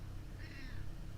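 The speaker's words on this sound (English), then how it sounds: "I don't know if you guys heard her meowing just now." An elderly cat gives one short, thin, wavering meow, faint and somewhat distant over a low steady background hum.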